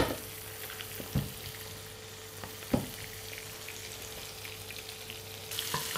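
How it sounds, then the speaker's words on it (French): Butter foaming and sizzling in a pan alongside Norwegian cod fillet, a steady close frying hiss with a few sharp clinks of a utensil, no voices. "On fait bien mousser le beurre,"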